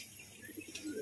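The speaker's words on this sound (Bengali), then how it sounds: "একজোড়া বালি পায়রা" Pigeons coo softly in a loft holding a pair of sand-coloured birds among other fancy breeds, a few low, quiet coo pulses against faint background noise.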